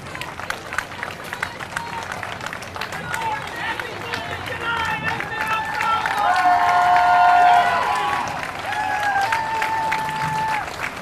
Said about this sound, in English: A rousing round of applause for the DAV.